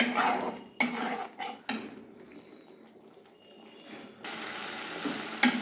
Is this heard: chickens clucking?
no